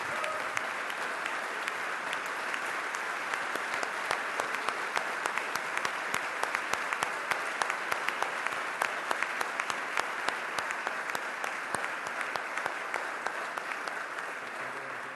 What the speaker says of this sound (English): I really just want to give the staff another round of applause